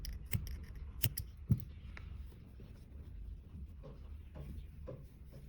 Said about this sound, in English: Then leave a yarn about 10 cm and cut it off.